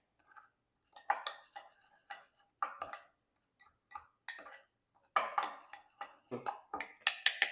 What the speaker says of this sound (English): we're going to mix all our dry ingredients together